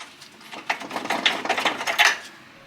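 A car jack being raised under a loosened subframe during suspension bush work, giving a series of close mechanical ratcheting clicks in uneven bursts, with no talking.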